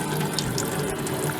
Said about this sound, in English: a 25 litre water container, which has got an electric pump in, which feeds the tap